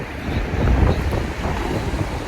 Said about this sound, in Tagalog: Naririnig din naman guys na maglakas ng hangin.